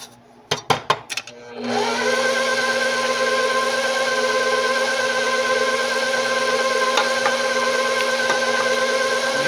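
An electric mixer on second speed beats eggs into French vanilla pound cake batter, a steady loud motor whine that holds evenly after a few sharp clicks at the start.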